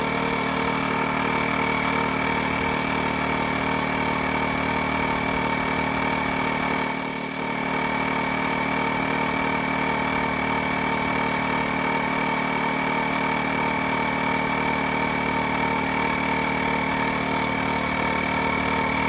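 A Wolf Box cordless air compressor inflating a 35-inch Jeep Wrangler tire, its motor running with a loud steady buzzing drone throughout, a brief dip near the middle, and no talk.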